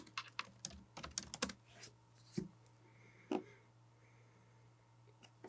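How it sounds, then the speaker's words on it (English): Password typed on a computer keyboard: a quick run of close, light key clicks followed by a few isolated taps, over a steady low hum. "once you click install, type your password"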